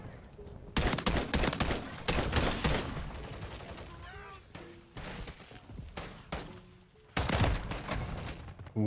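Loud bursts of automatic gunfire from a KVD Enforcer rifle in Call of Duty MW3 come in several heavy volleys, with game effects and quieter gaps in between.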